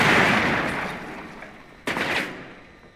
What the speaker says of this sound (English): Shoot your breaching charge.